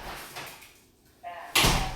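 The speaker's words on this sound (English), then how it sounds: "Let me open the door for him." A house door is opened for a dog to go outside, with a soft handle-and-latch clatter followed by a louder broadband whoosh of the door swinging near the end, beneath brief background talk.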